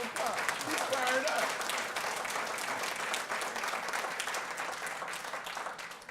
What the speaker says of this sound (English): Yeah, we'll give him that round of applause.